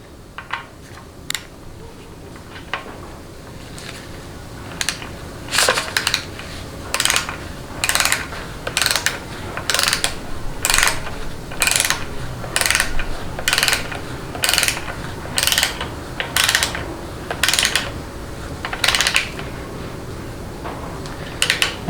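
A Ford AOD transmission band adjuster is tightened to 50 inch-pounds, a close series of sharp rhythmic ratchet clicks, irregular at first and then steadily paced, over a quiet workshop background.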